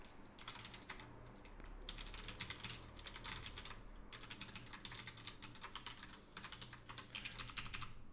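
Code is typed on a computer keyboard in fast, continuous runs of crisp key clicks broken by brief pauses, close but quiet over a faint steady hum.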